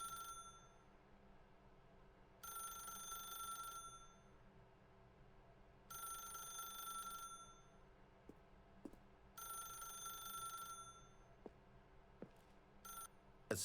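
A telephone rings in The Stanley Parable, three long bursts of a bright electronic bell tone separated by pauses, set over a low steady room hum with a few faint clicks near the end.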